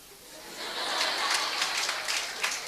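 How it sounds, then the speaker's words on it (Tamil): Audience applause at a Tamil motivational speech by Dr. Parveen Sultana, a broad steady wash of clapping that swells after the first second and holds, with faint voices mixed in. "பாதிக்கப்பட்டவர்கள் கைத்தட்டுகிறீர்கள்"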